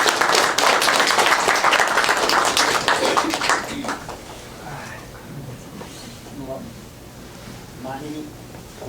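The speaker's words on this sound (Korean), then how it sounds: "1세대 분들께 정말 박수 쳐드리고 싶습니다." An audience at a lecture on the realities of immigrant generations claps loudly and densely for about four seconds, then the applause fades out as a person begins speaking over a quieter room.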